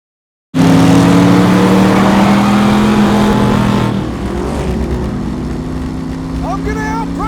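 A race car engine from the Ford v Ferrari film roars in suddenly and holds a loud, steady drone that later drops to a lower, rougher rumble, with faint chirping sounds near the end.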